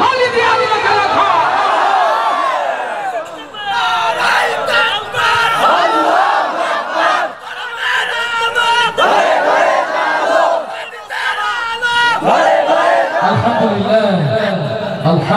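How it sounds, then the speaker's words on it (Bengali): A large crowd at an Islamic gathering loudly chants the Takbir in unison. Several swelling call-and-response waves of massed voices fill the space, and a single nearer voice leads between the rounds. "তাকবীর ধ্বনি দিয়ে আল্লাহকে রাখো।"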